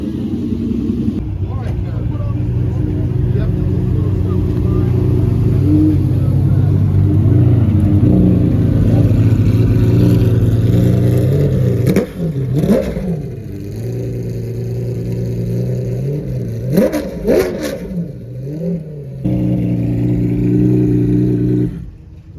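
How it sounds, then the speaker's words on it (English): A BMW V12 engine at the polo fields during Monterey Car Week, a loud, sustained engine roar that surges through several revs and shifts, with a person talking excitedly over it. "that sound from the BMW V12"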